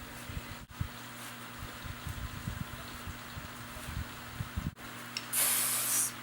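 Hairspray hisses onto styled hair for a high half ponytail in one steady burst of about a second, near and fairly loud, after a stretch of quiet handling noises.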